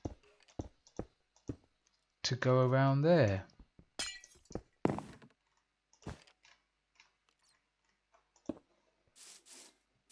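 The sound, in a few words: placing glass blocks in Minecraft video game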